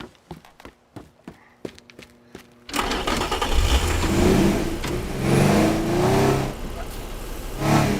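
Car engine revving in the Teardown game: sharp clicking knocks at first, then the engine roars up and surges loudly for several seconds, rising and falling in pitch.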